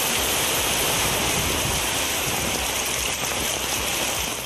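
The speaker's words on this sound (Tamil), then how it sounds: "தஞ்சாவூர் மாவட்டத்தின் பல்வேறு பகுதிகளிலும் பலத்த மழை பெய்ததால் குளிர்ச்சியான சூழல் நிலவியது." Heavy rain pours steadily across Thanjavur district in Tamil Nadu, a dense, loud, unbroken hiss of falling water with no talking.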